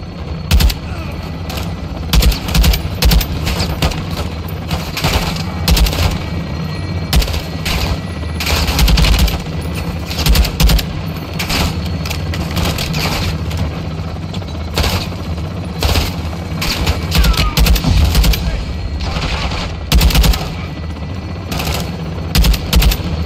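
Rapid gunfire from a first-person shooter, Call of Duty Modern Warfare II on PC, with repeated bursts of automatic weapon fire and sharp shots crowding together loudly over an ongoing rumbling battle background, no talk.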